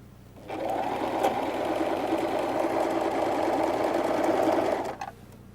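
A sewing machine stitching a six-panel kameez runs in one continuous steady whirring burst of about four and a half seconds, close and fairly loud, starting and stopping cleanly with no talk.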